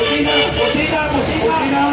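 Car horns blare and overlap amid a crowd's babble and voices, loud and continuous, at an anti-corruption street protest in the Philippines.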